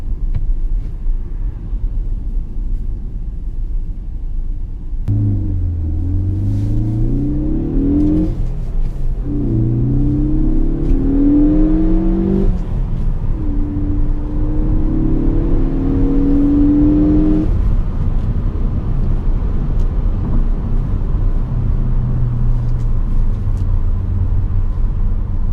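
A turbocharged 2016 Ford Focus ST, ST3 Recaro trim, revs up from a steady idle-like rumble into strong rising pulls with shifts between them, then settles into a lower cruising drone, heard from the cabin.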